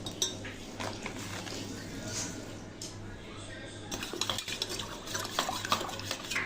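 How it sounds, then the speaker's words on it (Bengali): A spoon stirs sugar and Tang drink powder into water for sharbat, with steady clinking and scraping against the container, close and moderately quiet over a low background hum. "ট্যাঙ্কটা দিয়ে গুলিয়ে নিব"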